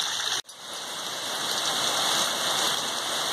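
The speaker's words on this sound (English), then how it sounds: "Let me take you back and show you the rain yesterday." Steady rain falls in a backyard on a rainy day, a dense even hiss of drops on surfaces that continues without pause after a brief dip at the start.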